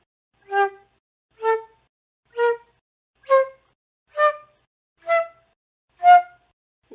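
A flute sounds seven separate notes started without tonguing, each a soft breathy swell evenly spaced about once per second against silence.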